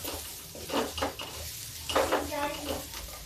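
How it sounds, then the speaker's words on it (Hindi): Food being stirred and fried in a pan for a home-cooked Indian lunch, with soft sizzling under intermittent scraping and clinking of a utensil against the pan, close and fairly quiet. "बस ऐसे ही भून के इसको हम पकाएंगे।"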